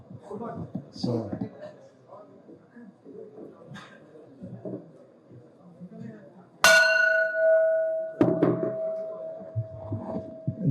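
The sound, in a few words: bell being gonged at IPO ceremony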